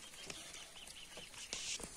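A young free-range Indio chicken, kept penned on a farm, gives short repeated clucks and chirps close by. A brighter squawk sits over steady background hiss.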